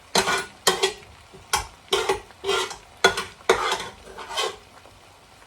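Plantain frying in a pan is stirred or turned with a utensil, producing about ten regular scraping clinks against the pan over a soft sizzle, close and distinct with quiet gaps between strokes.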